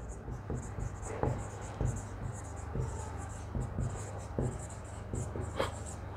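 Pen or chalk writing out notes during a Bengali physics lesson on gravitational force, giving a run of short scratchy strokes with brief pauses, fairly close, with a steady low hum underneath.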